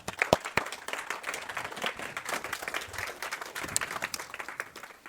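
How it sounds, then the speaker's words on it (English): An audience at a policy talk welcomes a speaker onto the stage with steady, moderately loud applause, a few close, sharp claps standing out early over a continuous wash of clapping from the room. "Please give her a big round of applause."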